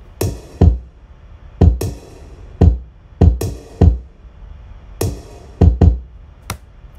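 A hip hop beat built from kick and snare samples, with sharp punchy hits in a repeating pattern of doubled strikes and gaps, loud and alone with no talking.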